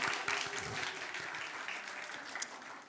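Church congregation at a Sunday worship service applauds in thanks for a shared lunch, a soft, continuous patter of many hands heard from a distance, fading slightly at the close.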